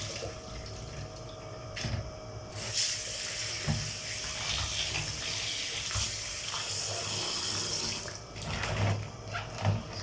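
Running tap water pours steadily over a crab being washed clean in a home kitchen, a close, continuous splashing rush that swells and eases as the crab is turned under the stream.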